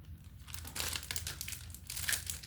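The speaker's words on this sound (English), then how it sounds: "I'm college educated but can't get in a package of stickers" Continuous crinkling and rustling of a plastic package of stickers being pulled and worked open by hand, close and steady for a couple of seconds.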